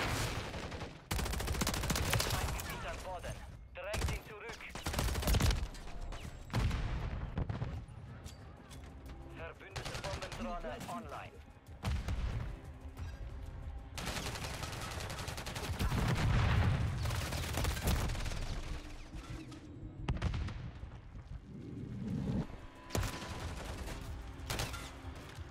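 Call of Duty MW3 multiplayer gunfire, dense and nearly continuous, with overlapping rifle bursts, single cracks and heavier blasts layered into a loud, busy battle din that barely lets up.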